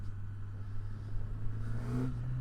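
A 2024 Suzuki GSX-S1000GX Plus motorcycle accelerates with a steady, rising engine drone that stays close and fairly loud over rushing wind for a couple of seconds.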